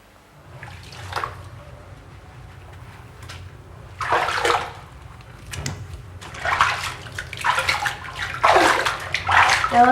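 Bath water sloshes and splashes in a filled bathtub, with repeated bursts of movement that grow busier and louder toward the end over a low steady hum, with no talking.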